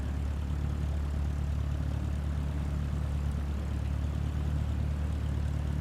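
A steady propeller aircraft engine in Microsoft Flight Simulator 2024 drones at idle, a constant low rumble with a buzzing hum, close and continuous throughout.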